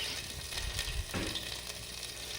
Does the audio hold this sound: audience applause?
no